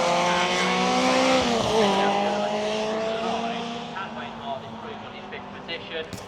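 Race cars at the Brands Hatch Italian Festival, engines roaring loudly close by, pitch shifting as they accelerate away through a sweeping right-hand corner, then fading toward the end.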